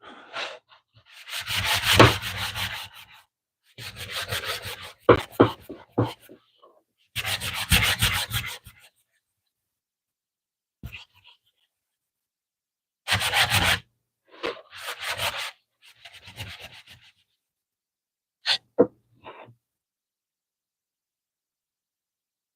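A rubber eraser scrubs across a wooden Sunday School sign, in several bursts of brisk back-and-forth rubbing separated by pauses, close and fairly loud, with a few short scrapes near the end.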